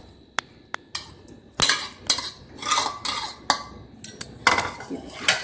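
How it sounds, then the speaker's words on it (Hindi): Carrots tipped into hot ghee in a pan for gajar halwa, with scattered clinks and scrapes of a utensil against the pan and bursts of sizzling, close and irregular. "मेरा घी गर्म हो गया है, मैं इसमें गाजर डाल दूँगी"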